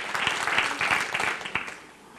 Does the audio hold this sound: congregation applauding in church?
yes